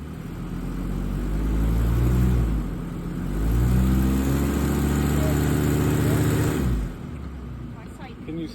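A motorhome's car engine revving hard while trying to pull free from mud in Michigan, sustained loud strain rising and falling over several seconds, then dropping off near the end; voices can be heard faintly in the background.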